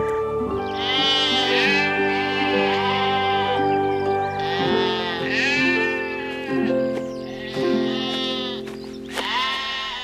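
Several sheep bleat in overlapping, wavering cries, loud and close, with a steady low drone underneath throughout.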